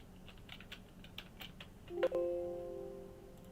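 Light, quick keyboard typing, a few soft clicks close by, followed by a brief chime-like tone that rings out and fades.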